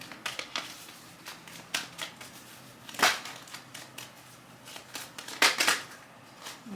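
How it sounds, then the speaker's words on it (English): Cards riffle and slap in quick irregular bursts, a few sharper flurries standing out, with no talking. "Let me do a quick shuffle here."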